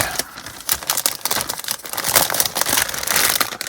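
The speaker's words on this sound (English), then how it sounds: "let's open this one resealable bag" Loud close crinkling and rustling of a resealable plastic bag holding parts for an ICM 1/48 Ki-21-Ib Sally Japanese heavy bomber model kit, continuous crackly handling throughout.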